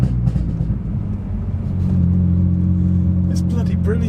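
A race-prepped BMW M3 engine, sounding like a cup car, drones loudly from inside the cabin, its steady low rumble swelling as revs build, while people talk over it.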